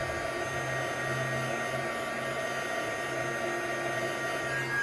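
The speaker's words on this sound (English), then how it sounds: "so I'm gonna just blow this dry with my little embossing gun" A small embossing heat gun blows steadily to dry wet paint on a llama painting, a continuous close whirring hum with a breathy airflow that holds level throughout with no talking.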